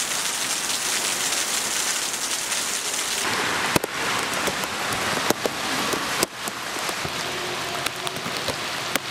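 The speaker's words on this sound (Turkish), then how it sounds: "Balıkesir'de dün ani bastıran yağışlar yolları göle döndürdü" A sudden heavy downpour pours onto flooded streets in Balıkesir, Turkey, as a dense, steady hiss of rain with a few sharp knocks and clicks scattered through it and no talking.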